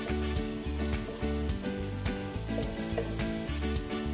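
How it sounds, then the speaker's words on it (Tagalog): Onions and garlic sauté in a hot pan for chicken bistek, a loud, steady sizzle and fry with occasional stirring scrapes, heard alone without talk. "magigisa naman tayo ng sibuyas"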